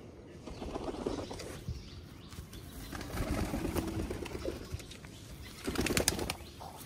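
A tula pigeon of the Khulna breed flaps its wings in short bursts while held in the hand, close and fluttery, with soft rustling between the flurries.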